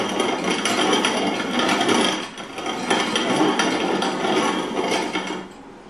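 Country Living Grain Mill hand-cranked to grind corn kernels, the burrs tightened for finer meal: a loud, continuous gritty crunching and rasping with rhythmic swells of each crank turn and a brief dip midway.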